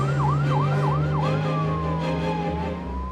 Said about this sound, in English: as the ambulance rushes to a local ER